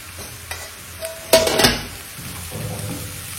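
Chilli powder, turmeric and coarse chilli go into vegetables frying in a pan, with soft sizzling, a few scrapes and a burst of stirring clatter in the middle.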